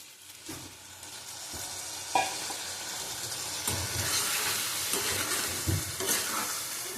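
Spices sauté in a pan with a little water for a prawn and taro curry, making a continuous near sizzle that swells and fades with stirring, and a few soft knocks and scrapes.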